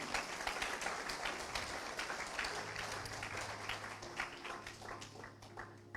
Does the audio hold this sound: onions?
no